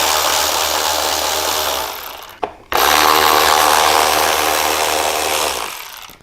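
A power tool whirs loudly and continuously to back out a screw inside the inner fairing vent of a 2015-or-newer Harley-Davidson Road Glide, cutting out briefly with a click midway before running again at full speed.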